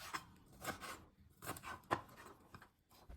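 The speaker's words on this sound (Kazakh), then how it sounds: "Бұрышымызды видеодағыдай осылай орташа көлемде турасаңыздар болады" Knife chopping bell pepper into medium pieces on a board, a few irregular crisp cuts spaced across the moment, close and fairly quiet with no voice.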